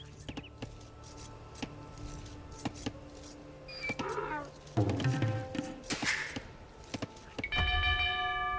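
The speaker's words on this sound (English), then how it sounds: "ring the town bell again to send them back to work" A town bell rings in Age of Empires 2 Definitive Edition, bright chiming strikes standing out among busy game effects and short clicks.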